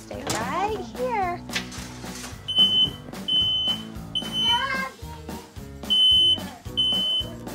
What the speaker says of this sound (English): It's not uncommon for our smoke alarm to go off